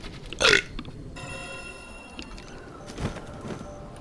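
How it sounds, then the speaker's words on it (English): One loud, short burp erupts near the start, followed by quieter room sounds and a faint ringing tone, with a couple of small noises afterward. "some stuff came back up with that burp"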